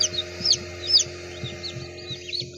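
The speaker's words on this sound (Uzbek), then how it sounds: "Bittagi hamda jo'jalari mana ochib chiqdi." Newly hatched chicks cheep in a steady run of high, rising peeps beside an incubator, with a hen clucking low and soft underneath, all fairly close and with no talking.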